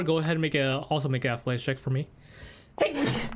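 A single loud sneeze bursts out near the end of a tabletop role-playing game session, coming right after a stretch of close talk and a brief quiet pause.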